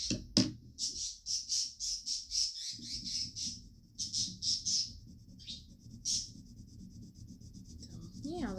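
Birds squawking loudly in rapid, repeated bursts, a long run of harsh calls, then a pause and a few more scattered squawks, close and shrill over a soft rustling background.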